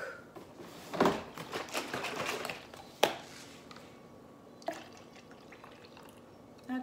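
Almond milk and sweetener pour and drip into a glass of iced coffee, soft trickles and a few sharp clinks of ice or glass, fairly quiet and close with brief pauses between.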